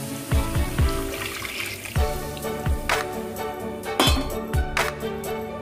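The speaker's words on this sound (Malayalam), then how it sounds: "ഇനി വേറൊരു പാനിൽ 1/2 ലിറ്റർ പാലൊഴിക്കണം" Half a litre of boiled milk poured into a pan, close liquid splashing and gurgling with uneven bursts of pouring and a few clinks, no talking.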